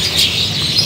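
An F1 canary (kenari) in a kiosk at the Pasar Lembang bird market gives a brief burst of loud, high, bright chirping, heard up close.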